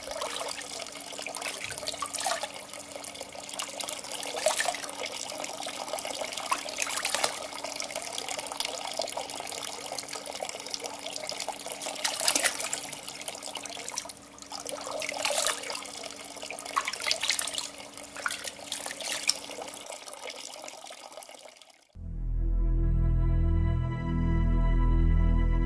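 Water pours steadily from an old iron pipe at a spring in the Sinai desert, a continuous close splashing flow with no voices, ending in a different low rumbling sound for the last few seconds.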